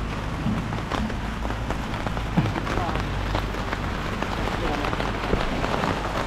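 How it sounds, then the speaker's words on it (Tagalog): Steady rain drums on a flat steel deck rooftop, a dense continuous patter with scattered sharper drops, close and even throughout with no clear pauses. "umuulan na dito sa amin."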